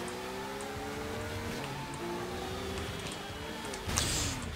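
A car drives in the open-world video game Sleeping Dogs, with a continuous engine drone that shifts in pitch as the gears change, a steady loud road roar and a brief burst of noise near the end.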